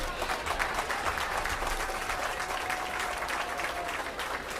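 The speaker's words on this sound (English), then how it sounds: "let's give them all a big round of applause" An audience at a youth swine show gives steady, even applause, dense clapping that holds at a moderate level for several seconds without talk.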